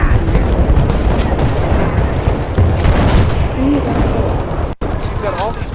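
Explosions and gunfire from the Battlefield Bad Company 2 video game, a dense, continuous roar of booms and shots filling the whole stretch, with voices talking over the battle.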